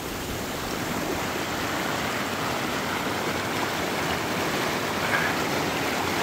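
Stream flowing through Cave Creek Canyon in Arizona: a steady, broad rushing hiss of moving water, constant and fairly loud with no breaks or voices.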